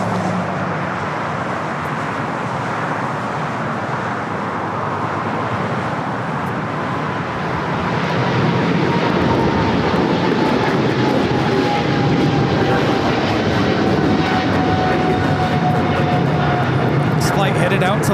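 An American Airlines flight to London Heathrow rolling for takeoff at LAX, a steady jet roar that grows louder midway and holds, with a faint descending whine running through it and someone talking over it.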